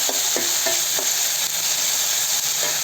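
Ginger garlic paste frying in a pan for chicken gravy, a loud continuous sizzle with a few spoon scrapes of stirring near the start, no voices.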